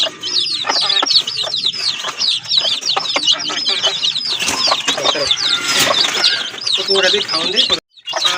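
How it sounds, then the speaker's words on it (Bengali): Three laying hens clucking at a market selling native chickens and pigeons, with busy, overlapping clucks and squawks close by, some wing flapping, and people talking underneath. "এখানে কিন্তু 3টা মুরগি রয়েছে"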